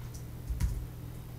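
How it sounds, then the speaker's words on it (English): Computer keyboard keys are pressed for a shortcut: a few soft, quick clicks and taps at close range in an otherwise quiet room, with no voice. "Hold Command and E on your keyboards on Mac, or Ctrl plus E on Windows."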